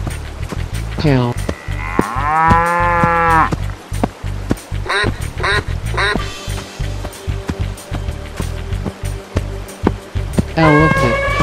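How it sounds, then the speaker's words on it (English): A cow moos in long, drawn-out calls over a steady backdrop of rhythmic thumping music, with a shorter moo near the start and another rising at the very end, loud and close. "Cow."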